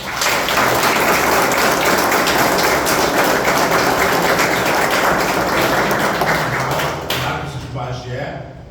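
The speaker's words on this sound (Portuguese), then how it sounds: "uma salva de palmas." Loud, sustained clapping fills a railway workers' union meeting for about seven seconds, then thins out as a voice begins speaking over the tail.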